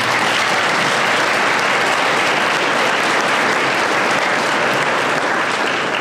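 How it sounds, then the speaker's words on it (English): Audience applause for school staff at a senior awards ceremony, a dense, steady wash of many hands clapping that stays loud and even throughout without pause. "Give them a round of applause"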